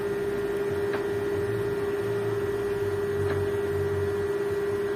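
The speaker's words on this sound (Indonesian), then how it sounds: "Suaranya, kipasnya berputar." A cooling fan spins inside an Aiwa WVT99 audio system, giving a steady, even electrical hum that holds unchanged from start to finish with no talking.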